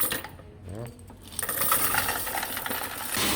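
Coins pour and rattle through a Coinstar coin-counting machine, a steady metallic clattering and whirring that grows louder and continuous after the first second, with no talking.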